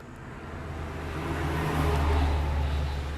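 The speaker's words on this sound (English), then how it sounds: "We also have lots of traffic noise." Steady low road traffic rumble outside a 2004 Class C RV, with a vehicle drone swelling louder toward the end, no talking.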